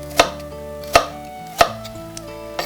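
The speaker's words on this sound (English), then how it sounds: "so just cut them in small bits like this" A knife chops apples into small bits on a board, three sharp close knocks spaced about half a second to a second apart, then two fainter taps, with no talk.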